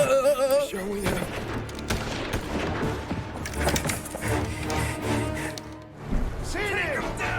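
Rapid gunfire from the video game Mafia Definitive Edition crackles in dense, overlapping bursts, loud and continuous, mixed with game sounds and voices talking over it.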